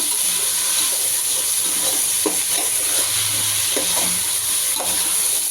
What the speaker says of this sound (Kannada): ಈಗ ಇದನ್ನು ಹಾಕೋತೀನಿ, ಸ್ವಲ್ಪ ಮಿಕ್ಸ್ ಮಾಡ್ಕೊಬೇಕು.